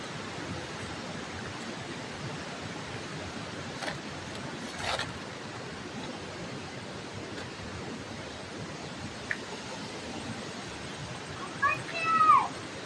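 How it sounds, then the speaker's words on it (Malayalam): A stream runs beside a house in a rural setting, heard as a steady, even wash of flowing water throughout, moderately quiet, with a few brief faint knocks and a short squeak near the end. "ഇതിലേ ഒരു തോട് ഒഴുകുന്നുണ്ട്."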